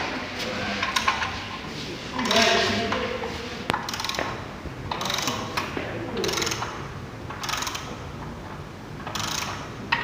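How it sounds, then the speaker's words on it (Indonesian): A 19 mm socket wrench tightens a tie rod bolt on a vehicle chassis in a workshop, giving repeated ratcheting clicks and metallic knocks in uneven bursts, close and fairly loud, with faint talk in the background. "pengencangan pada baut tie rod dengan menggunakan kunci shock 19"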